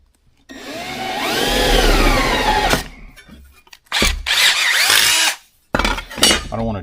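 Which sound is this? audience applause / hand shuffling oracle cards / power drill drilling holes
power drill drilling holes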